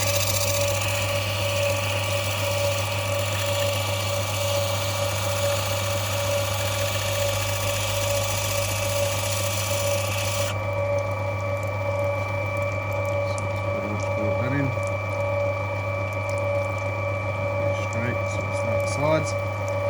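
An opal cutting machine runs steadily while trimming Andamooka matrix opal, a constant loud motor hum with a high whine that drops away about halfway, leaving the lower drone with faint scraping.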